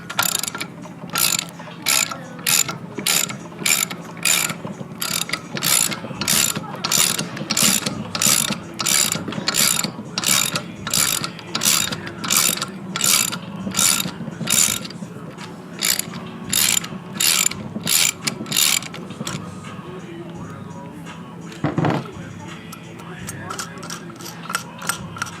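Ratchet wrench clicks rapidly and steadily for about twenty seconds while loosening a part during a DIY valve spring and valve seal install on an LS-swapped BMW E30, close and clear, then stops near the end.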